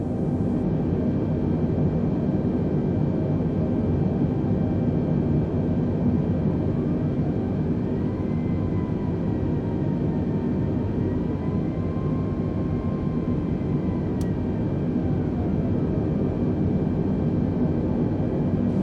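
Jetliner engines idling steadily while lining up on a runway in Microsoft Flight Simulator, a constant low roar with a faint whine rising and falling, uninterrupted throughout.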